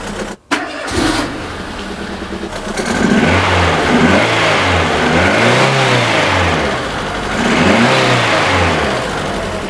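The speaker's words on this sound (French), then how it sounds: "Quand j'accélère, quand la pompe fonctionne plus rapidement, elle aspire du liquide de refroidissement un peu plus." Renault Twingo engine, bonnet open with coolant system work underway, starting and then revving in two swells of rising and falling pitch over a steady idle, loud and close.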